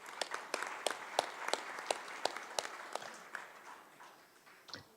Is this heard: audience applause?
yes